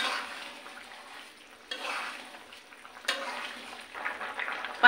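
A spice tempering hisses into a pot of thin koi fish curry with winter vegetables, a soft sizzle rising in several surges as the hot oil hits, fairly faint, with no talking.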